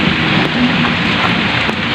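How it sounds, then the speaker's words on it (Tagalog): Heavy rain pours down in a steady, dense hiss, loud and close throughout with no pauses and no voices. "Ang ulan, grabe"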